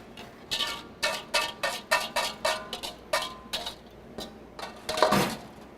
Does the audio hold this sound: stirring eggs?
yes